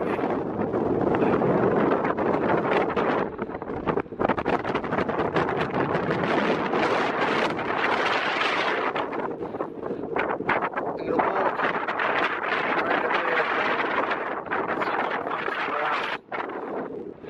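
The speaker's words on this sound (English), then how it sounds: "It's so windy." Strong wind roars and buffets the microphone almost without pause for about seventeen seconds outdoors at night at a hammock tent camp, loud and close, with only brief dips in the gusting.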